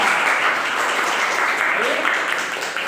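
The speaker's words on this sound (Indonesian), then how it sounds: "Kasih tepuk tangan untuk kita" A classroom group bursts into steady applause after a presentation, a continuous moderately loud patter of clapping with a faint voice briefly underneath.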